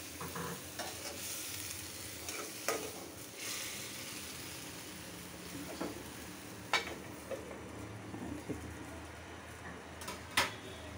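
Onion and ginger fry in a pan for a tangra fish curry, a soft continuous sizzle with occasional sharp clinks and scrapes of stirring against the pan, with no talking.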